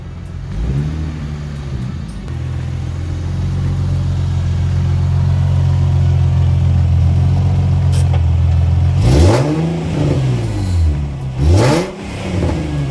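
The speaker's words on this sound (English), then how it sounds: "I'll let it warm up a little bit, add a little more coolant, and take it for a little test drive." Nissan 370Z engine warming up after a rebuild, a steady close idle hum that rises slightly, then several sharp revs climbing and falling near the end.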